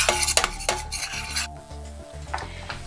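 A utensil scrapes and stirs flour toasting in a pot, with repeated metallic scraping strokes and a faint sizzle beneath.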